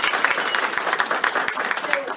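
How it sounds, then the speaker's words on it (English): A crowd claps in a steady round of applause at a school honor society induction ceremony, sustained and fairly close, with some voices mixed into the clapping. "give her a round of applause."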